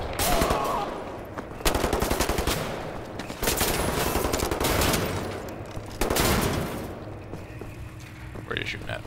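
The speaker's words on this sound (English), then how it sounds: "Where are you shooting at?" Rapid bursts of automatic gunfire in Wolfenstein: The New Order, loud and repeated in long runs with short pauses, while someone talks over the shooting.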